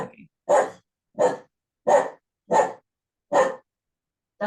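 An indoor pet dog barks steadily, about six loud, evenly spaced woofs roughly a second apart, each clean and alone with quiet gaps between.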